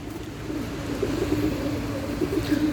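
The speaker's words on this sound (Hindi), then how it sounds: "ये छत पे पकड़े हुए कबूतर है" Pigeons caught on a house rooftop coo in low, soft, repeated throaty phrases, close and steady, with faint background hum and no talking.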